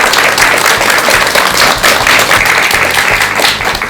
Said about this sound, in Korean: 오늘 여러 가지 귀한 말씀 들려주신 정명스님께 여러분 큰 박수 한번 올려주십시오.